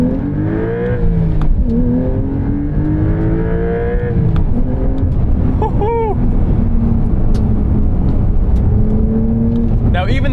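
A 2024 Porsche 911 Carrera T (992.1) with a manual gearbox makes a full-throttle pull, its engine rising steadily in pitch under constant road and wind noise, with a brief gear change midway and a person speaking over it.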